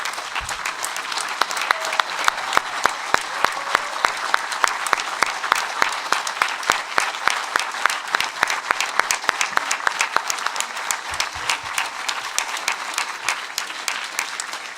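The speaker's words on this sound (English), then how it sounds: "let's applaud and congratulate the class of Honorary Fellows" Loud, sustained audience applause at an honorary fellowship conferral ceremony, dense hand clapping with sharp individual claps standing out, continuing steadily throughout with no talk.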